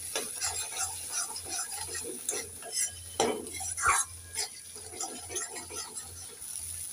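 A spoon stirs Bengali koi fish curry masala with tomato and a half spoon of sugar in a pan, scraping and rubbing in irregular strokes, close and moderate, over a steady background hum.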